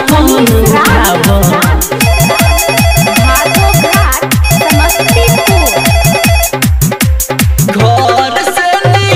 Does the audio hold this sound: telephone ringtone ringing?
yes